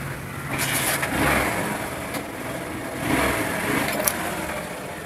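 A Honda SP 125 motorcycle, ridden with a newly damaged clutch plate, accelerates with a steady engine drone that swells twice, heard close and fairly loud against wind noise, with no talk.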